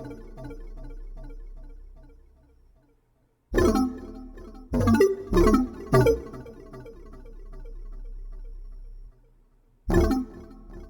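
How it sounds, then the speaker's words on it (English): Heavy, full synth pluck chords for a rage-style trap beat, struck in a few loud separate hits with gaps between them over a quieter sustained background layer. "I copied those chords from the pluck onto this other pluck that's a lot more heavy and full"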